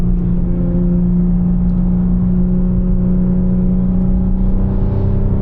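BMW M4 Competition with a loud exhaust, a steady low engine drone with strong bass harmonics held throughout, close and continuous, swelling slightly near the end, with no talking.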